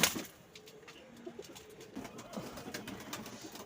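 Teddy pigeons coo softly and repeatedly, faint low calls near and far over a steady background hiss, with a brief sharp knock at the start.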